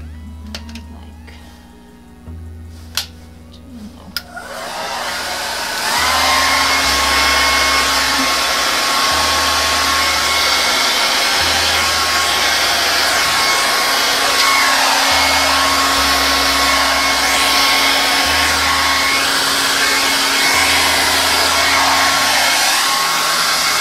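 A hair dryer blows across wet acrylic pour paint on a canvas, switching on after a few seconds of quiet handling noises and then roaring loud and steady nearby, its pitch shifting slightly as it moves.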